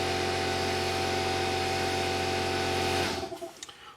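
An air compressor runs with a steady, loud mechanical drone, then shuts off abruptly and fades out over its last moments.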